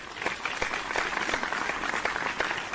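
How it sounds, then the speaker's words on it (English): Steady crowd applause of dense, fast hand clapping continues throughout as background sound during a podcast. "I keep hearing clapping in the background."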